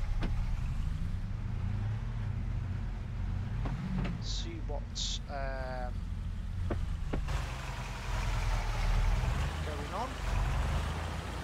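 Vehicle driving on a farm in the video game Farming Simulator 22 on the Zielonka map, a steady low rumbling motor hum beneath someone talking, with a few brief clicks and tones.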